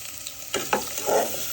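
Chopped onion and garlic sizzle in hot oil in a pan, with a few scraping stirs of a utensil over a steady fry, close and fairly quiet.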